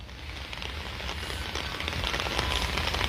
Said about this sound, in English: now the intensity of the rainfall is slowly picking up